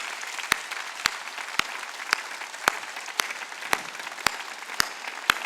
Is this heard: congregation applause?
yes